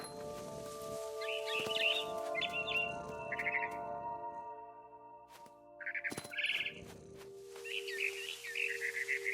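Bright, chirpy barn swallow calls in the video game What Remains of Edith Finch come in short bursts, with small twittering phrases repeated over a steady background hum and a few sharp clicks.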